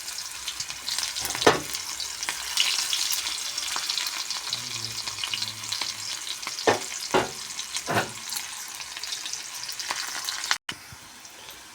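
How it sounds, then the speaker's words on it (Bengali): Chopped onions fry in a pan for a home-cooked meat curry, giving a continuous crackling sizzle broken by a few louder stirring scrapes, close and alone without speech. "দিয়ে আবার দিয়ে দিলাম পেঁয়াজ কুচি।"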